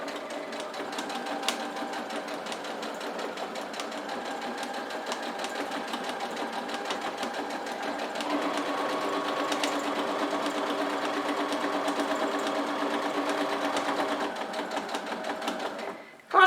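Sewing machine stitching fabric along a traced line for a bread basket, a steady continuous mechanical whir at close range that holds throughout and stops abruptly at the end, with no talking.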